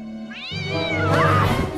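A cat meows loudly and close, one drawn-out call that rises and wavers, with a whining, caterwaul-like quality and no voices.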